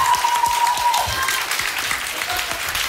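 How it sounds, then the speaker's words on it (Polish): Lively applause from a small group, steady clapping throughout with a couple of brief high whistles or cheers mixed in. "Wielkie brawa!"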